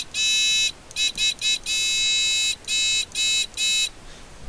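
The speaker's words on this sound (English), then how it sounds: "Yeah, it'll make that buzzing noise." A littleBits buzzer module, switched on by a button with a power bit, sounds loud electronic beeps in about eight bursts of uneven length, some long and some short, alone with no talk.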